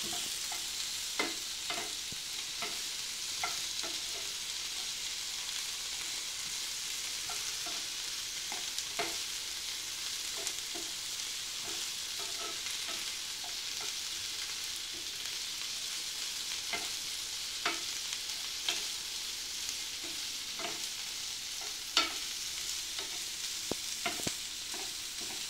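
Colored bell peppers frying in a pan while being stirred, giving a steady broadband sizzle with scattered scraping clicks of the utensil throughout, no voices heard.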